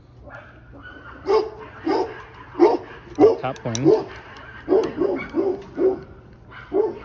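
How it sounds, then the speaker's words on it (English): A dog barks repeatedly at landscapers mowing a neighbor's lawn outdoors at dusk, a run of sharp, fairly close barks and yips at an uneven rhythm, with someone speaking briefly amid them. "And my dog is barking at them."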